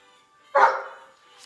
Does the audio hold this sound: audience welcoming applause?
no